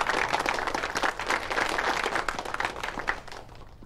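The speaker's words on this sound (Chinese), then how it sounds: "大家鼓掌" A meeting hall crowd in a wartime film scene gives a dense, steady round of clapping that holds at an even level from start to finish.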